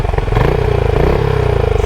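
A Benelli Imperiale 400 single-cylinder motorcycle with a stainless steel exhaust thumps in a steady, rapid, loud pulse while riding through a city, close up and with no voices.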